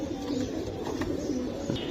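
Giribaz pigeons coo in low, throaty, rolling calls that carry on continuously, close by.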